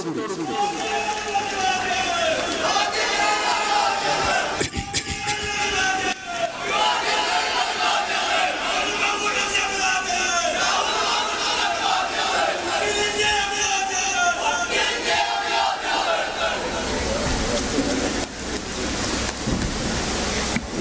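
Crowd at a political rally in Wayanad cheering and clapping to welcome Rahul Mamkootathil to the stage: loud, dense roar and chanting throughout, with voices rising and falling in waves.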